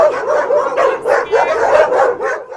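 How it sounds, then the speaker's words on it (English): A pack of wild dogs in Guatemala barks loudly and close by in a rapid, overlapping series of yips and barks that continues for under three seconds. "Oh, there's so many wild dogs."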